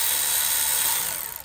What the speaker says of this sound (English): Look at that freaking ratchet.